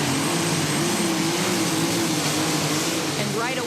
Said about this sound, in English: the tractor having a hard time getting it hooked up as it one wheels back and forth on the rear tires